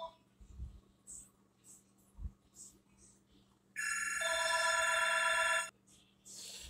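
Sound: telephone ringing

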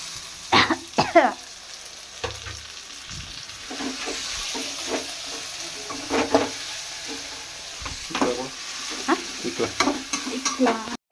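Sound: frying and stirring tomato, garlic, coriander, mint, fenugreek

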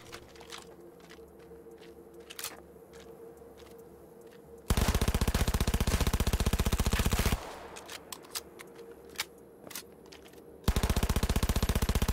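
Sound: gunfire from a weapon in Cyberpunk 2077 video game

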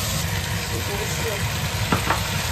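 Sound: stir-frying beef with sugar in a pan

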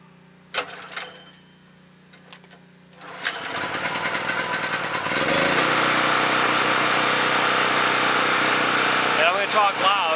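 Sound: portable electrical generator engine running after pull start

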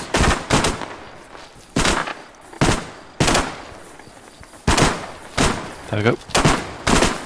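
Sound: gunfire in Arma 3 video game

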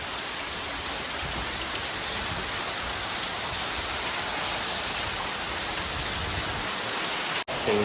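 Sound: heavy rain falling

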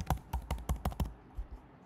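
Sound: typing a new password on a computer keyboard

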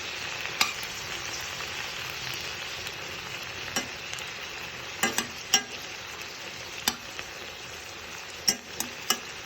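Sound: stuffed eggplants frying and being turned in a pan

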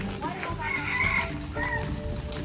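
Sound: rooster crowing at a zoo

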